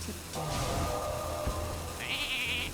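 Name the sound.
sheep bleating in Hearthstone video game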